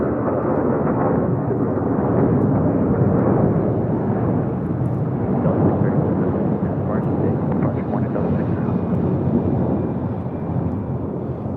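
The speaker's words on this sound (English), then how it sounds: "This is Delta Airlines Flight 8 coming in from Tokyo Haneda on the A330 Neo." A Delta Airlines Airbus A330neo arriving from Tokyo Haneda at LAX gives off a continuous, heavy jet rumble that stays loud and steady throughout.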